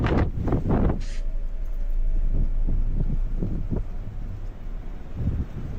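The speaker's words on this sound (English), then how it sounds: "Looks like a windy night." Wind blowing on a windy night, a steady low rumble buffeting the microphone with irregular thumping gusts, fairly loud and continuous with no talking.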